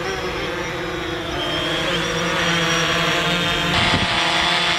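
A steady, fairly loud mechanical whir with tonal bands runs throughout and swells slightly toward the end, fitting a small drone's spinning propellers heard up close, with no talk.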